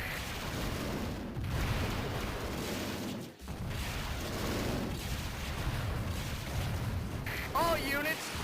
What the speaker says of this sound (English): Send in the artillery.